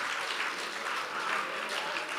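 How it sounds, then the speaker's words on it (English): A crowd at a solidarity conference in White River, Mpumalanga applauds in a dense, even burst of clapping that holds at a steady level throughout. "One more round of applause for our dear Minister, Nalet Pando,"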